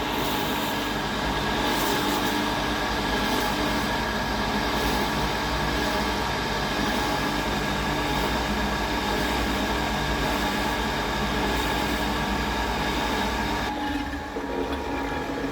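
A steady, loud mechanical whir and hum of a 1-inch, 1-horsepower centrifugal jet water pump running continuously, with a slight change in tone near the end.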